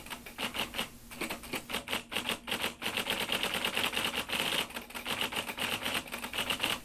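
A typewriter clatters in a fast, continuous run of sharp key strikes, loud and near, with no voices.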